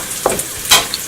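Onions and garlic frying in a pan give a soft, brief sizzle with a couple of stirring scrapes, close by and moderately loud, with no voices.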